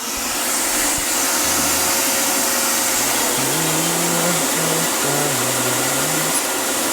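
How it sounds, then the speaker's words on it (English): A workshop vacuum runs continuously beside a bandsaw, a loud steady whooshing whine with a faint low hum underneath and no talking. "I'm going to turn the vacuum on."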